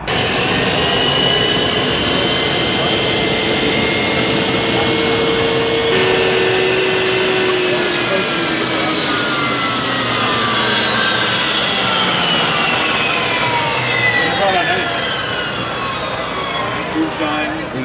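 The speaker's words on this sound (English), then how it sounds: "the sound is just phenomenal. It sounds like a jet plane or a helicopter." A loud, continuous high-pitched whine and rush from the gas turbine engine of a 1963 Chrysler Turbine Car, with tones sweeping slowly up and down, sustained at close range throughout.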